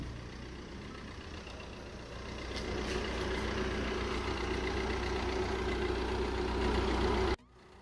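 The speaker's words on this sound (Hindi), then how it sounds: "So this is the engine of my car and everything is good and fine." A Maruti Suzuki Brezza engine with 40,000 km idles steadily up close under the open bonnet, a constant low rumble that grows slightly louder partway through before cutting off abruptly near the end.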